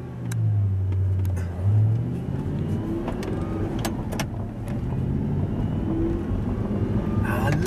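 An Audi R8 sports car engine hums steadily as it drives, with low rumbling tones rising and falling and a few sharp clicks and knocks over the road noise.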